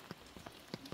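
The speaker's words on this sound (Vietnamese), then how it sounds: "Mưa quá." Rain falling on a surface, heard as scattered close drops tapping irregularly against a faint, steady wash of rain, quiet and without voices.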